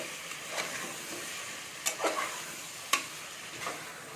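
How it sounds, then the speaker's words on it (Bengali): Potato, tomato and peas cook in a pan with pav bhaji masala, making a soft, low sizzle with a few scraping stirs and light spoon taps, close by and quiet, without voices. "এবার ভালো করে কষে নিচ্ছি"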